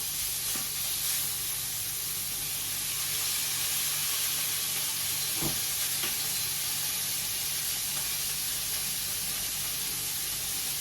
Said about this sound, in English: Well, it's going to get seared first of all